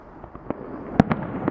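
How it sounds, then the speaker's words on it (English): Fireworks burst over Sydney Harbour at night, a scattered series of sharp cracks and pops, a couple of them louder and nearer, over a low outdoor background. "The fireworks started suddenly."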